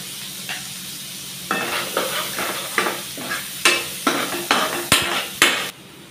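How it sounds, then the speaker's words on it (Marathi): Finely chopped onion frying in a pan for butter chicken, a steady sizzle with a series of scraping stirs and utensil knocks at a close, even pace, no voices. "आता मी ह्याच्यामध्ये बारीक एक कांदा चिरून टाकून घेत आहे"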